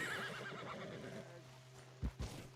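A Shire horse in the video game Red Dead Redemption 2 gives a quavering neigh, then snorts or hoof thuds twice near the end, fairly quiet overall with no talk.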